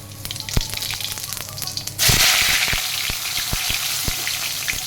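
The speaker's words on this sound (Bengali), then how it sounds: "ছোলার ডালের আলুটা ভাজা হচ্ছে।" Cut potatoes for a chickpea-lentil dish dropped into hot oil, a quiet crackle that bursts into a loud, dense close sizzle with scattered sharp pops and spatters continuing steadily.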